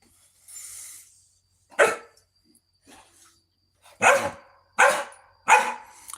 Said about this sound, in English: He wants to start barking.